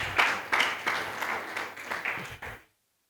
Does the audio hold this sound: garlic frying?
no